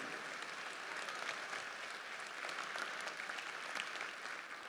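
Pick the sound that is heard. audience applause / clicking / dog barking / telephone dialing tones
audience applause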